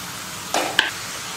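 Pieces of semolina snack dough dropped into hot oil on a medium flame, giving a short burst of sizzling with a sharp splash or crackle near the end, close and moderately loud, no talk.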